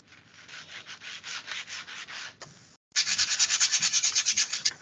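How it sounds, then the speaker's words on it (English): A small wooden snowman craft is hand sanded up close in steady back-and-forth rubbing strokes. A brief pause breaks the strokes before a louder, faster run of sanding resumes. "Smooth some of it out, and I'm going to sand my little one too."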